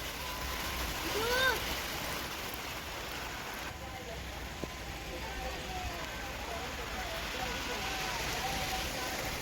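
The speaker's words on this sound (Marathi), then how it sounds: "पाऊस येतोय पाऊस येत आहे" Rain falling outdoors by a village pond in the evening, a soft continuous patter forming a steady wash of noise, with faint chirps from birds early on.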